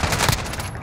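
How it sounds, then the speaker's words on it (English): Gunfire in Call of Duty: Modern Warfare, a loud close rapid burst of automatic shots lasting under a second, alone without speech. "Receiving hostile fire."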